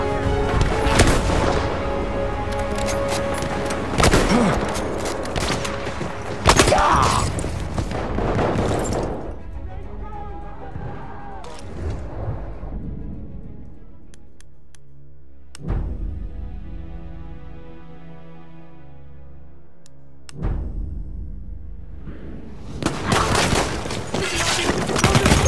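Artillery strike explosions in Battlefield 1 on the Sinai Desert map, loud booming blasts and crackling gunfire in bursts with quieter gaps between them.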